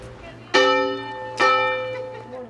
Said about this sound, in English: The toll of a church bell calls the faithful to service.